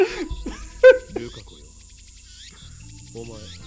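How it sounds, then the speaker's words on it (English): Cicadas from the Steins;Gate video game buzzing in a faint, steady drone, with brief speech at the start over a soft background of layered insect chirring. "Damn cicadas won't shut up."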